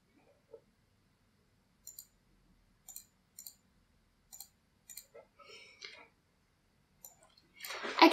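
Computer mouse clicking at a desk while editing a thumbnail image: about eight sparse, crisp single clicks spaced over several seconds, close and quiet, with faint shuffling near the end.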